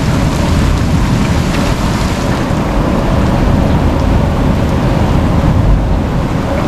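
Steady heavy rain pours down through a small thunderstorm over a homestead, a dense continuous roar of falling water close by with low rumbling beneath it throughout.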